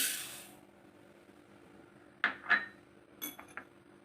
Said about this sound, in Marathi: तर हे बघा साखर टाकते पहिल्यांदा पातेल्यामध्ये